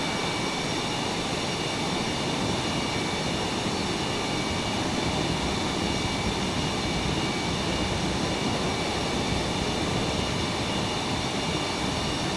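A simulated F18 jet in Microsoft Flight Simulator 2020 roars steadily on its takeoff run, a loud, continuous broadband engine rush with a high whine that holds constant throughout, with no voices over it.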